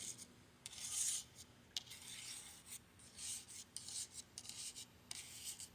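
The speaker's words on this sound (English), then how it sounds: "you just take a little thing to scrape them up off the plate" Dried Aerogarden seeds being scraped off a plate with a small tool, producing faint, close, raspy scratching strokes in short repeated bursts.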